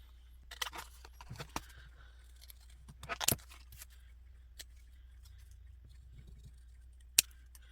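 Scissors cutting out a paper card element for a handmade card, heard as a few faint, close snips and rustles scattered among quiet pauses, with one sharp click near the end.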